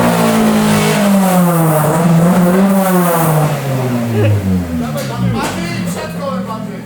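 A Honda Civic fitted with a swapped D16Z6 engine revs hard as it reverses, rising and falling in loud, close, sweeping tones while people shout over it.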